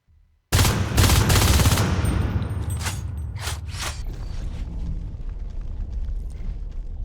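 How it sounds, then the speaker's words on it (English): Shotguns fired by Marines in Natural Selection burst into a loud, sustained roar of blasts and explosive rumble, with sharp shots punching through a heavy continuous background of combat noise. "Let's see what Marines can do with those shotguns."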